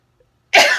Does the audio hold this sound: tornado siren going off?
no